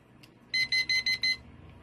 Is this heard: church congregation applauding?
no